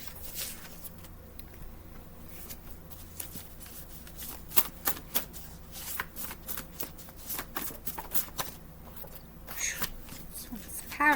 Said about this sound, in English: These ones are hard to shuffle.